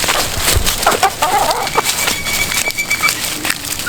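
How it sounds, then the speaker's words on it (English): Backyard chickens cluck and chatter close by as they are let out into the yard in the evening, with rustling and a person calling them over the flock. "Every evening we let these chickens out into the yard like I just did."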